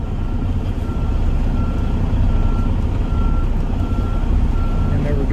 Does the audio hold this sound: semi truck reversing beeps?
yes